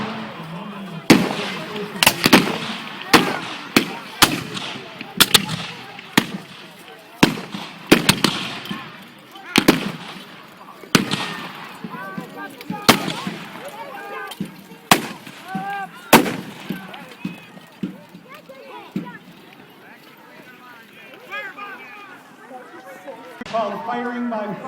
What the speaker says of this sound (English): Those 2 men fire their muskets